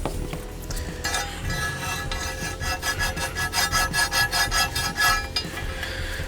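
Rust being scrubbed off brake parts on a Ram 2500 Cummins diesel truck: a close, rasping scrape that builds into a run of rapid, rhythmic back-and-forth strokes, then stops abruptly.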